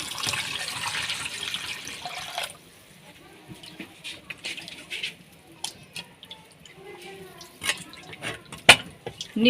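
Chicken liver pieces being rinsed in water in a home kitchen for a Bengali-style liver fry: a steady run of tap water fills the first few seconds, then scattered splashes, drips and handling clatter follow.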